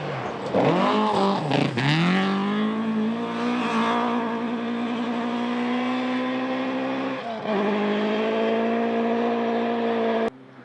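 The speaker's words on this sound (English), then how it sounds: "Graham Cowie in the wheel-spinning Lancer Turbo EX" A Mitsubishi Lancer Turbo EX rally car spins its wheels on gravel, its engine revving hard and close with rising and falling pitch as it accelerates, a loud sustained turbo roar that cuts off abruptly at the end.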